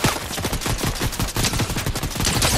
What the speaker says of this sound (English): I'm getting shot, James.